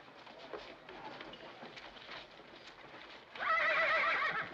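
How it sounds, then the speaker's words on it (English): A horse in a 1949 Western film clip-clops steadily at a moderate distance, then lets out a loud, wavering neigh near the end, with faint voices underneath. "You scare my horse."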